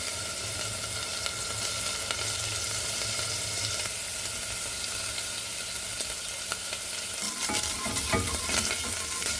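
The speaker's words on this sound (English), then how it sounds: "Give that a stir round." Hot Madras curry powder and garam masala frying over moderate heat in a pan for a beetroot bhuna curry, a steady sizzle with spoon scrapes and stirring clatters that grow busier toward the end.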